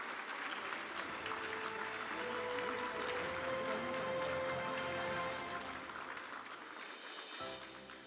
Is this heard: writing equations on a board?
no